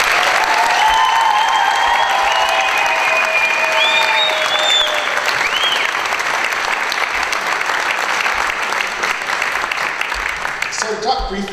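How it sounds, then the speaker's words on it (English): An audience at a middle school music concert applauds loudly in a dense sustained burst, with cheers and whoops rising over the clapping early on before the applause carries on and fades near the end. "if you want to give him an applause for all of this hard work"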